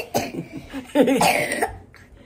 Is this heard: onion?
no